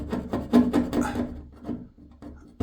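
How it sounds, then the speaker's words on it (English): A plastic scraper drags over water-based gloss paint in a quick series of short, dry rasping strokes, close and fairly quiet, with brief pauses between them. "I can't really get that off with the plastic scraper"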